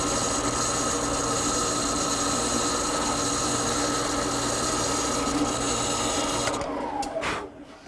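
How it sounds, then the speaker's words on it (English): Steady, continuous machine whine of a drill boring a hole in wooden shutter stock, running loud and unbroken for several seconds before spinning down at the end. "What I'm going to do is take my stock, drill the first hole."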